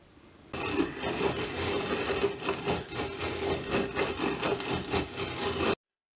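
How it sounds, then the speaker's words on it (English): A small hand mill grinds wheat berries into flour, giving a continuous close gritty rasping crunch with a rhythmic turning pulse that starts abruptly and stops suddenly. "You need one of these, a little hand mill, and we've got one."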